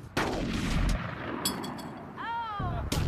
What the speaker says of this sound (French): j'ai entendu des coups de feu et des cris